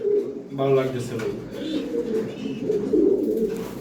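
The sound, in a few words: racing pigeons cooing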